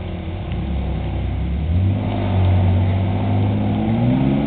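A 1985 GMC S15 4x4 truck engine labors up a hill at Elbe, Washington, its steady mid-range drone rising in pitch as it pulls harder, loud and close with no talking.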